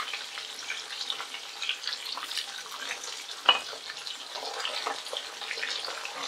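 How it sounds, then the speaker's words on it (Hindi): Fish frying in oil in a pan over a low-medium flame, giving a steady, fairly quiet crackling hiss throughout with no talking, broken by one brief sharper pop midway. "तीन चार मिनट और हम फ्राई करेंगे बहुत ही अच्छे से कलर चेंज हो जाने तक"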